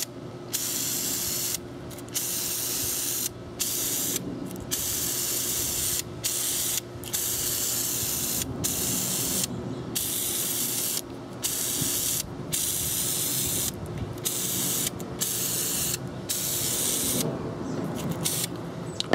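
Krylon Fusion spray paint hissing from an aerosol can onto paintball pods, long continuous close bursts broken by many brief pauses between passes.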